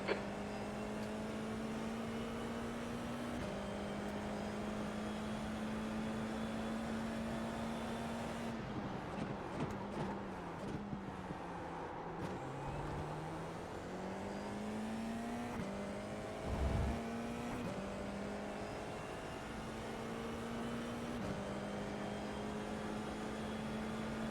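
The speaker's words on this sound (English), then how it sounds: "The next car is Fenton, car number 20." Open-wheel F4 race cars in the iRacing simulation at the Montreal circuit, a steady high engine whine that shifts pitch as cars sweep past mid-clip, continuous and fairly loud with no talk.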